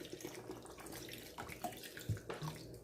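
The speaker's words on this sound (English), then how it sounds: "Pour the rest of my spring water on it and let it soak." Spring water is poured over sea moss in a kitchen to soak, giving a soft, continuous splashing trickle with a few louder sloshes near the end.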